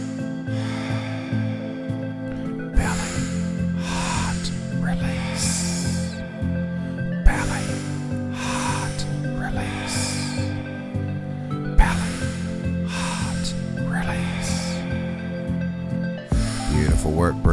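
Rhythmic shamanic belly breathing during a seated hatha session, forceful hissing exhales and inhales repeating in a steady cycle of bursts over a sustained musical drone.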